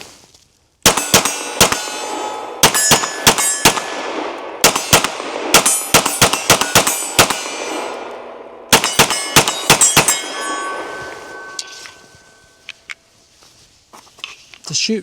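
Rapid pistol shots from a Canik Mete SFT ring off steel targets about 30 yards downrange at an outdoor range, bursts of sharp cracks each followed by a metallic clang, with a brief pause before a final fast string.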